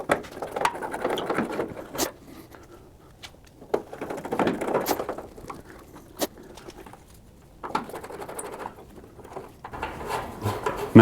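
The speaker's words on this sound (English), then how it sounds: "Really, you should take these screws out so that you can get them underneath this gasket." Screws are backed out of a car tail light lens with a hand tool, giving soft scraping, ratcheting turns and sharp clicks in uneven bursts, close up and fairly quiet.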